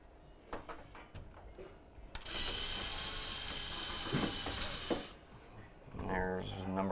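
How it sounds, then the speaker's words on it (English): Phillips mounting screws come out of the drain pump housing of a GE washer that is not draining, with clicking and ratcheting followed by a steady whirring driver spin of a few seconds, close up. "we're going to begin by removing the two Phillips mounting screws on each side of the main housing"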